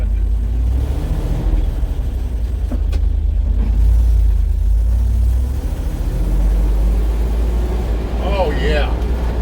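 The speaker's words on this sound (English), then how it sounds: "I'm going to take it for a little test drive." A bucket truck with its clutch out of adjustment drives on a test run, its low engine rumble and road noise running steadily beneath someone talking.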